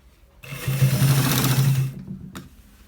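A sewing machine runs in one close burst of about a second and a half while stitching a collar onto a shirt, then stops, followed by a single faint click.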